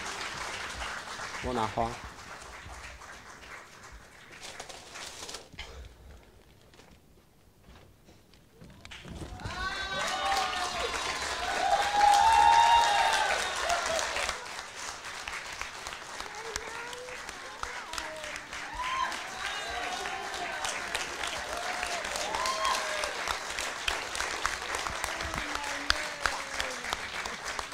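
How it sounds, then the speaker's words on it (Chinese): Audience applause at a cello recital swells into a long, loud round of clapping after a brief quiet pause, with a voice talking over and between the clapping. "请大家给她再鼓鼓掌。"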